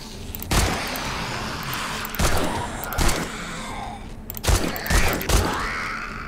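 Scattered gunshots against zombies in 7 Days to Die, several sharp cracks spaced irregularly over six seconds amid creaks and thuds.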